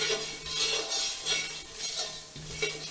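Poha is stirred and roasted with salt in a pan, with a spoon scraping and clinking against the metal over a soft, steady sizzle.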